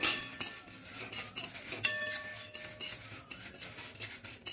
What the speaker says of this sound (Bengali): লবঙ্গ, এলাচ, দারচিনি, সব আমি এখানে দিয়ে এই মশলাটাকে ভাজতে হবে।